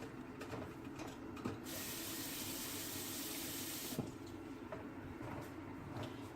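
Water runs in a steady rushing stream into a cooking pot for a few seconds, close by, over a background of kitchen noise and faint clatter.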